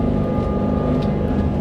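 Twin Yanmar 8LV370 V8 diesels on a Seaward 39, driving through V-drives, drone steadily at speed, a smooth, loud, continuous low rumble with no voices.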